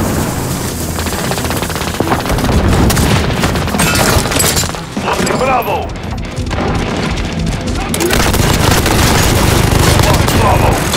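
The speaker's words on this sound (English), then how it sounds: "Throwing grenade." A grenade blast and gunfire in Call of Duty Modern Warfare (2019) multiplayer Domination, with loud dense booms and rapid shot bursts forming a continuous barrage, dipping briefly in the middle before heavy fire resumes.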